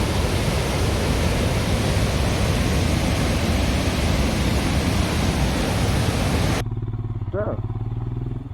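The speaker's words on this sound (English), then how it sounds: "The roar of the river was so loud that I could not even hear the thoughts in my head." Roaring river at the first water crossing of a ride toward Phugtal Gompa, a loud, dense, constant rush of water filling the scene, then briefly dropping in level near the end as a voice sounds over it.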